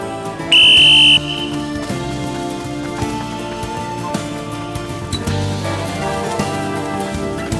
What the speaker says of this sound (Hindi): अभी थोड़ी देर में सीटी बजाऊंगा